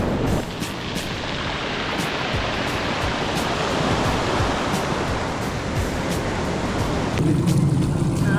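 A river rushes around a bend and out into the Pacific Ocean at Olympic National Park, Washington, a loud, steady broadband roar of moving water and surf that continues without a break.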